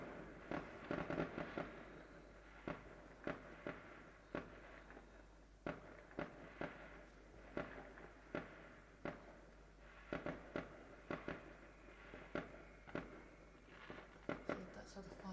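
Distant fireworks go off outside in a long irregular series of sharp pops and cracks, faint over a low steady background hum.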